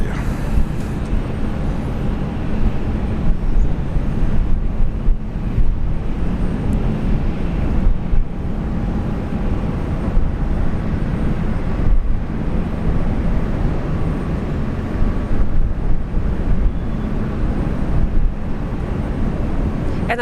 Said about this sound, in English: the next arrival is Virgin Australia, flight 405 coming in from Adelaide